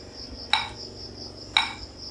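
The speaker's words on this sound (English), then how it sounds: "The metronome is going to sound like this." Two sharp metallic ticks about one second apart, steady and evenly spaced over a faint high background hum.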